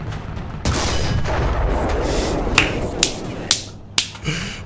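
Tank cannon fire in the War Thunder video game: a series of sharp, loud shots in a steady rhythm over a continuous rumbling engine bed, with no talk.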